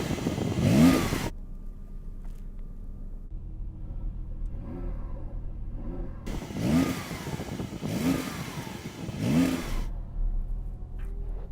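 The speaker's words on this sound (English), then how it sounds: "Let's hear the Porsche, or try to, because that'll sound rubbish as well." A stationary Porsche's engine revving in repeated short bursts, each climbing and dropping back to a low rumbling idle, loud and close with no talk over it.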